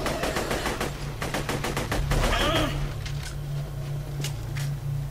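Rapid automatic gunfire in the PC game Borderlands 2: dense bursts of close shots in the first half, then scattered single reports over a steady low mechanical hum.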